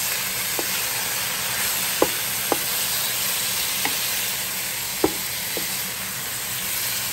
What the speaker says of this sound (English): Stir that up a couple times. Stir it up just like that.